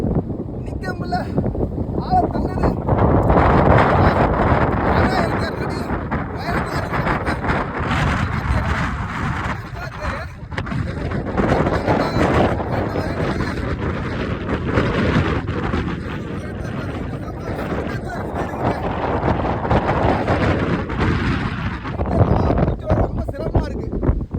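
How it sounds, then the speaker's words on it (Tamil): Strong, gusting wind and mist on the Agathiyar hills roars steadily against the microphone throughout, with a person speaking over it now and then. "காற்று ரொம்ப பலமாக அடிக்குது"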